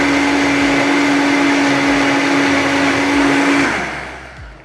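A kitchen blender pulsing butterscotch pumpkin pie filling, one loud continuous whirring motor run that holds steady for a few seconds, then winds down and fades as it stops, with no talking.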